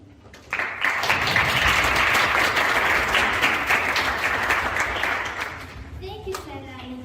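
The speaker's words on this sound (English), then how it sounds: "Applause, please." Debate audience applause, a loud, sustained burst of many hands clapping that starts suddenly and fades over several seconds, with a voice emerging near the end.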